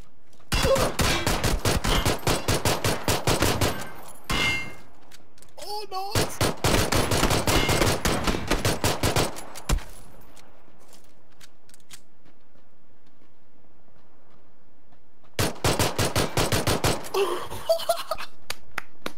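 Rapid automatic gunfire bursts in PUBG, several long rattling volleys close and loud, separated by a long quiet gap before a final burst, no talk.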